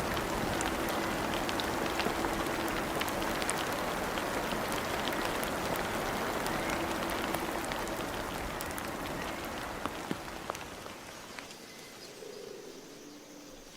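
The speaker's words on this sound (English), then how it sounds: "The rain softens the soil and revives the land." Steady rain pattering on rainforest canopy leaves on Christmas Island, a dense, continuous hiss of drops with scattered louder ticks, easing slightly toward the end.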